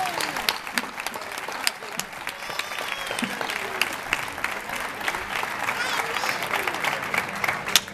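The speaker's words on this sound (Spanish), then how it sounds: "un fuerte aplauso para ti" Audience applause at the mayor's opening of the Fiestas de Nuestra Señora del Consuelo in Torremenga, a steady crowd clapping that holds for the whole stretch with voices faintly mixed in.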